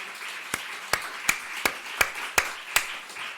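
Slow, evenly spaced hand claps, about seven sharp strikes at a steady beat, ring out alone in a quiet church hall with no talk over them.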